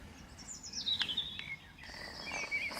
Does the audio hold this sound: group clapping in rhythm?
no